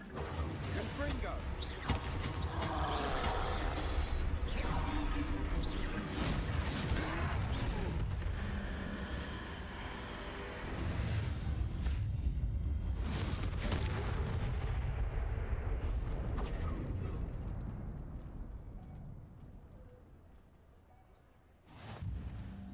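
Confringo spell blasts in Hogwarts Legacy boom through a noisy battle, loud repeated bursts with rumbling tails, mixed with voices and combat clatter before fading near the end.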